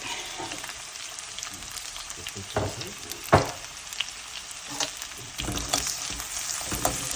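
Onions fry in oil with salt in a pan for crab gravy, a continuous sizzle broken by repeated scraping stirs and a few sharper clatters of the spatula, no speech.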